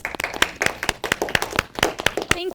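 An audience at a PRSA Dallas awards event claps in a short round, individual hand claps distinct and fairly close, lasting a couple of seconds before a voice begins at the very end.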